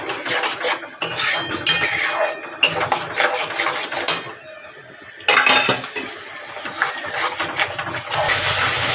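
Tomato paste being stirred and fried in a pan while cooking egg with spinach, a busy scraping and sizzling clatter of utensil on metal that runs steadily, pauses briefly, then resumes.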